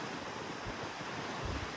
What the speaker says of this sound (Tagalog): Malakas ang hangin pero hindi siya malamig.